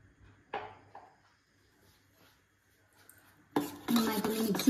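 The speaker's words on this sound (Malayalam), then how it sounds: "നന്നായിട്ടൊന്ന് മിക്സ് ചെയ്ത് കൊടുക്കാം." Egg and salt batter with maida being stirred in a bowl for broasted chicken, starting with a few soft clinks, then turning into steady, close scraping and clattering whisking over the last second.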